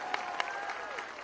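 A crowd at a political public meeting in Dhar District, Madhya Pradesh, breaks into loud, dense applause, a continuous wash of many hands clapping with a few sharper claps standing out.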